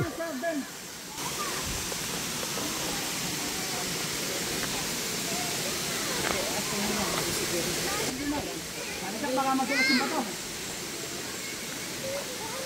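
A waterfall roars as a constant broad hiss, with people talking over it and moving around nearby.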